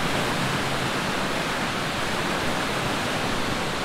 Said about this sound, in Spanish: Mire esta cascada y esas cosas.